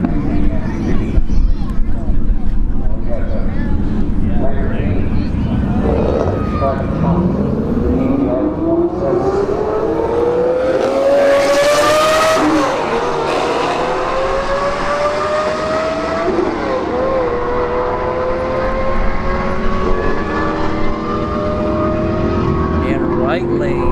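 Lamborghini Gallardo and Camaro SS drag racing at Bradenton Motorsports Park, engines roaring loud and close, rising in pitch as they accelerate hard down the strip, with crowd chatter underneath.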